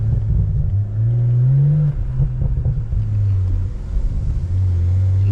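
Tuned Toyota Supra with a straight-piped, catless exhaust and aftermarket intake pulls away, its loud, deep droning exhaust rising and falling through revs close up, running steadily throughout with no talk.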